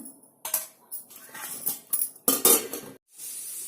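A metal lid clinks and scrapes as it comes off a pot of egg masala curry simmering on the stove, with a few sharp utensil clatters in between and a soft bubbling hiss after.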